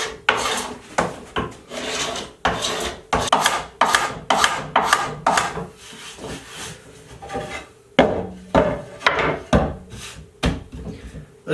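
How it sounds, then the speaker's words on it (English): A Harbor Freight scraper removes dried glue from a wooden cutting board in a series of loud, rhythmic rasping strokes, with short pauses between pushes and no talking. "I got this Harbor Freight Quinn scraper here. We're going to get rid of the glue"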